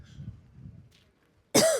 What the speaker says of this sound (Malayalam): എനിക്ക് ചുമ.